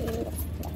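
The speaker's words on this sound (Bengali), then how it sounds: "এই পায়রাটাকে দেখুন" A pigeon gives a short, close coo, a soft low throaty call with no other sounds around it.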